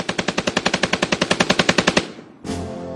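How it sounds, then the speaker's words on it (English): A Browning automatic rifle fires a rapid, evenly paced burst of about twenty loud shots over two seconds, then falls silent before a brief rumbling echo. "Browning, within 3 months, came up with what became known as a Browning automatic rifle"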